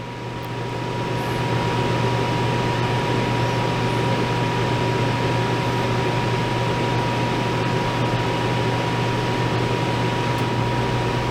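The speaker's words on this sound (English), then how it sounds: "I just heard the compressor come on," A Dometic RV rooftop air conditioner runs with its compressor on, a loud, constant mechanical hum and airflow roar that swells in over the first couple of seconds and then holds steady.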